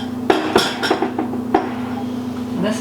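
Crust ingredients for a peach cobbler being mixed in a bowl, a few sharp clinks and knocks of a utensil against the dish over a steady low hum, with no talk.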